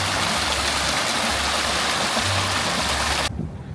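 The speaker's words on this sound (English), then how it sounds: "There's a babbling waterfall here." A babbling waterfall in a garden at the Anakeesta mountain park pours out a steady, dense rush of water that fills the space, then cuts off abruptly near the end.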